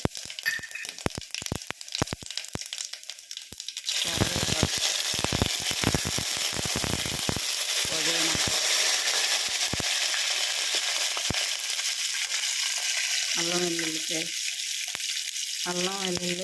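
Cumin, mustard seeds and dried red chillies hit hot oil for a mango and drumstick sambar, giving a sudden loud, sustained sizzle with crackling, after earlier clatter.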